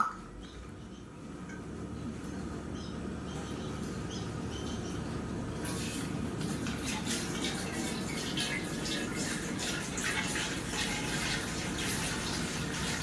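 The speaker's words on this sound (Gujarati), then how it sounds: "હવે પાણી અંદર રેડે છે" Water is poured into a pot in a steady, fairly quiet stream, the splashing growing fuller after a few seconds; no one speaks.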